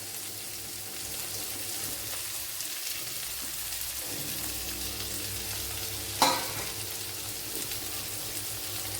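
Sliced onions sauté in a hot pan with a steady, close sizzle. A single sharp clatter of a stirring spoon cuts through midway.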